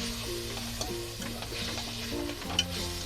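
Chopped, salted chicken frying in a pan for chowmein, a steady close sizzle with faint stirring scrapes and clinks, no voices.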